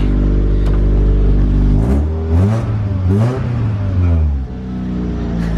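A car engine idles with a deep rumble, then revs up and down several times, loud and close.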